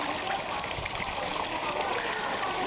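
Steady, broadband rush of water pouring out into a resort swimming pool, a continuous gushing wash with no breaks, fairly quiet and even throughout.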